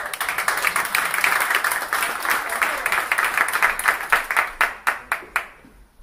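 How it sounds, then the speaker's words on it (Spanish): A live audience applauds a volunteer named Tony at a gin-distilling demonstration, a dense round of clapping that thins out toward the end into a handful of loud, separate claps before fading. "Tony, un aplauso para Tony, por favor"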